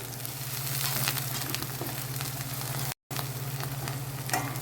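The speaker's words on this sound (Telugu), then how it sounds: "నూనె పైకి వచ్చేసిందండి, వేగిపోయింది." Fish curry masala paste fries in oil in a pan, giving a dense, continuous close sizzle with faint stirring scrapes and a steady low hum beneath, broken by one brief dropout.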